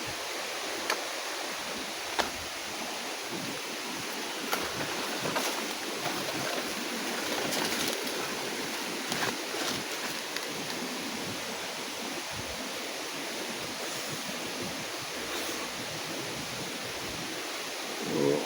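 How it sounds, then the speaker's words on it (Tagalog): Steady broadband rush of flowing water, like a stream running over rocks, continuous and fairly close, with no voices. "Yung ingay lang ng tubig"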